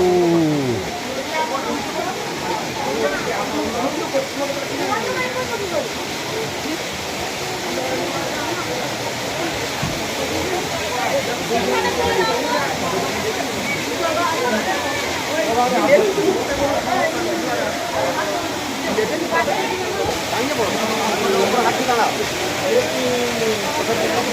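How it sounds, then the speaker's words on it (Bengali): Waterfall at Cherrapunji, a steady broadband rush of falling water near a cave, continuous and fairly loud throughout, with people talking faintly in the background. "এইটা ঝর্ণা"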